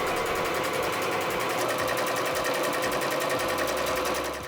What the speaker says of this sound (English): And then you quickly stitch this together at one side.